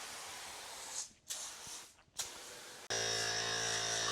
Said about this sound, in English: I'm going to spray it down again and do our scrub.